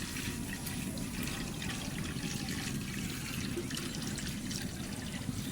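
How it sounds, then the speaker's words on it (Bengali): Lentils (dal) rinsed in water, a steady close trickling and sloshing of water running continuously at moderate level. "ডাল করে একটু ভালো করে ধুয়ে নেই।"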